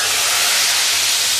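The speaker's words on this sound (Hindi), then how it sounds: "तड़के की जो ये लगने की आवाज़ है ना," A tadka of fried onions and dried red chillies for chana mash dal sizzles loudly, a dense steady hiss of hot oil that carries on without a break.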